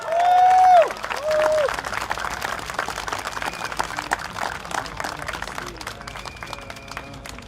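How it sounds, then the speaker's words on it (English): A crowd at an outdoor political rally in Singapore applauds and cheers steadily throughout, with a loud voice or horn blast at the start over the ongoing clapping. "we can a round of applause please to invite our youngest candidate this slate"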